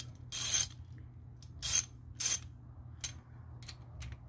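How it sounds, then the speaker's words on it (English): A hand ratchet loosens bolts on a MerCruiser 3.0 liter engine, giving several short bursts of quick clicking pawl noise separated by pauses, close and fairly quiet. "use a generic ratchet to get them out."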